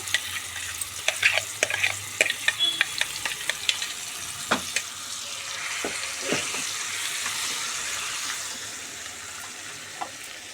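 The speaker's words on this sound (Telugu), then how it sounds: "మనం పట్టుకున్న టమాటా పచ్చడి వేసుకొని కొంచెం కలుపుకొని ఒక ఐదు నిమిషాల నుంచి దించాలి" Tomato chutney sizzles in a frying pan while a spoon stirs it, giving irregular scraping clacks over a steady frying hiss that settles into a gentler simmer.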